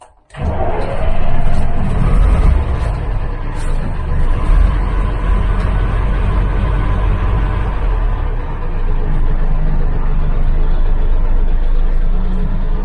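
A truck engine cranks and fires up, then settles into a steady low idle rumble heard from inside a cab fitted with sound insulation, loud and continuous with a slight rise near the end.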